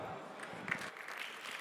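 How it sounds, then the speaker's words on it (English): Faint, distant applause for a speaker at the Machines Can See 2024 conference, a soft, even patter that holds steady throughout. "can we have a round of applause for Alan?"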